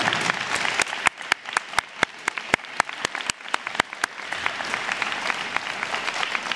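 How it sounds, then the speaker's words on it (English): Audience applause for parents rising at a high school National Honor Society induction ceremony, a steady clapping crowd with a few sharp close claps standing out over the wash. "Let's give them a big round of applause."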